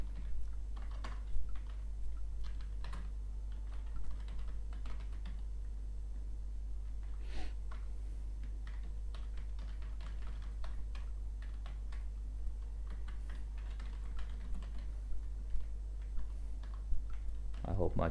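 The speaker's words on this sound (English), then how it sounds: "I hope my keyboard is not too loud. I have a really old keyboard." Keys clatter on a really old computer keyboard in quick, irregular bursts under a low steady hum, with someone talking at moments.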